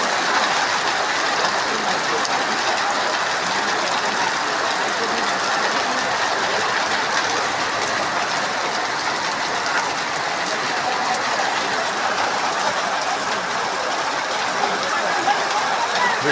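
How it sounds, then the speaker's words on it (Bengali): Heavy rain pours down during a Kalbaishakhi storm, a steady, dense roar of downpour that holds at the same loud level throughout with no voices. "অনেক বৃষ্টি, প্রচণ্ড বৃষ্টি, দেখতেই পাচ্ছেন।"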